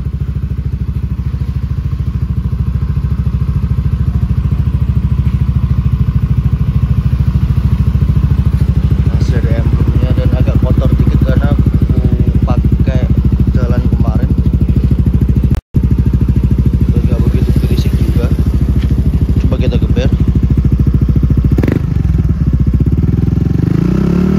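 A Yamaha NMAX Neo scooter's loud, raspy R-One racing exhaust drones steadily with throttle blips and revving, close by, with a brief dropout midway.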